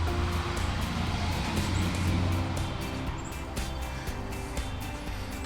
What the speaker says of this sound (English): We seem to have a lot of excess traffic going down our road, because there's a tractor show going on down the street